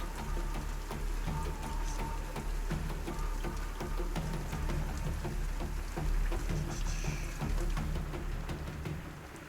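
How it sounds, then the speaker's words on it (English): Steady rain gently falling all around, a lighter, thinner patter than a heavy downpour, continuous and fairly close with no voices. "As you kind of are listening in on the rain, you can hear that it starts to lighten a little."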